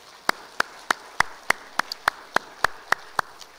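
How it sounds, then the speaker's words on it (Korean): A church congregation at a Sunday service claps in steady unison, about a dozen sharp, evenly spaced claps roughly three per second, close and distinct over a quiet room. "박수로 영광을 돌리시겠습니다"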